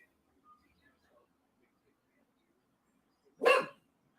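A single short dog bark or yip stands out clearly and fairly close over a quiet room with faint background murmur.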